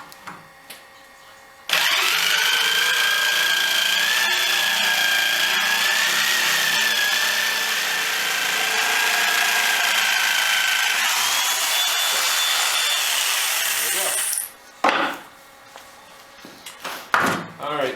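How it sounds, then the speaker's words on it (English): A power saw cuts through 3/4 inch plywood with a loud, steady whining buzz that holds for about twelve seconds, then spins down and stops, followed by a few clunks of handling. "I'm going to use some of this 3/4 plywood that I had left over. So let's go ahead and cut this out."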